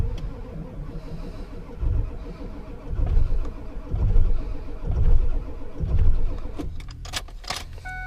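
A Ford 7.3 diesel pickup struggles through a cold winter start, the starter cranking in slow, heavy rhythmic pulses for several seconds before a brief rough catch and clattering near the end, close up.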